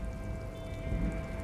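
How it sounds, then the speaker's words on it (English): Rain in the Disco Elysium video game at a harbor, a steady close patter of drops on concrete with a low continuous hum, heard alone. "It's raining."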